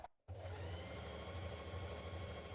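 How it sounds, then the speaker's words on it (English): A home sewing machine runs steadily through a long straight stitch along the top of a dress skirt section, a continuous low motor whir that starts after a short pause and holds close and even. "change to a long straight stitch, and we're just sewing along the top"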